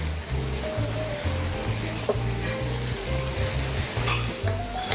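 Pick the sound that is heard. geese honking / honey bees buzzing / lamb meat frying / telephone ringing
lamb meat frying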